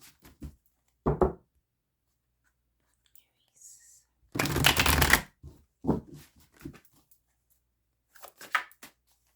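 Tarot cards are shuffled in a few short, crisp riffling bursts, the longest lasting about a second, separated by silence, with soft whispering and quiet speech in between.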